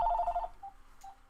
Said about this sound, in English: And that's the phone going off.